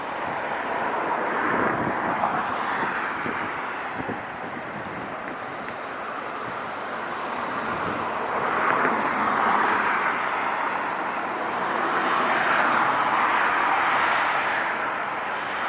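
A British Airways airliner passing at LAX, a broad jet roar that swells and fades over several seconds, heard from a distance through gusty wind buffeting the microphone.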